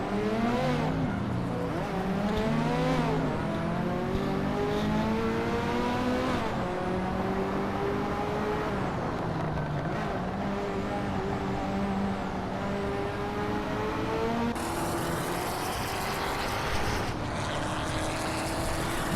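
Race car engines roar at Monza in a racing video game, a steady loud drone with revs rising and falling through gear changes for nearly twenty seconds, with no voices over it.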